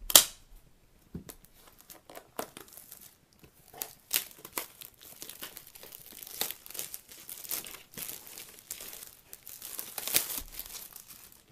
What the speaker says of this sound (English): I'll take the plastic off camera.